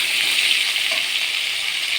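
Raw banana and potato fry in a pan with spices, giving a loud, steady, dense sizzle throughout with no talking.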